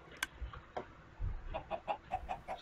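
Chickens in the Minecraft video game cluck in a series of short, evenly spaced bursts, with a few scattered softer clucks at the start and a quick regular run toward the end.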